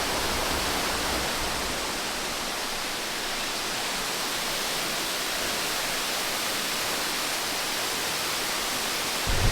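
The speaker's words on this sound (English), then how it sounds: "We have 1, 2, 3, 4, 5 waterfalls here." Several waterfalls at a site near Purwokerto, Indonesia, make a steady, dense broadband rush, constant and loud throughout with no voices on top.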